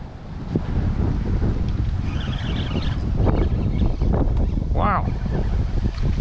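Heavy wind buffets the microphone outdoors during fishing, a steady roar with gusting low rumble throughout, mixed with faint water or surf noise and a brief whistling squeak near the end.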